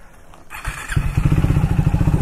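A Triumph Speed 400 motorcycle engine starts up nearby after a brief clunk, settling straight into a loud, regular thumping idle.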